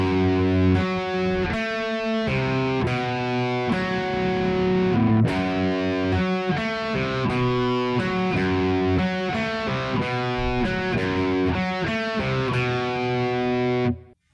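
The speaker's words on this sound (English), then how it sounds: "And then the riff repeats from there." Distorted electric guitar chugs through a riff, heavy palm-muted notes and ringing chords repeating in a steady loop, loud and close with no voices, ending abruptly.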